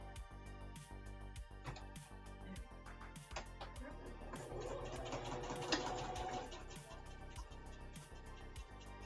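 A sewing machine stitches applique dice bags, running in a fast, continuous mechanical whir of needle clicks, close and steady throughout.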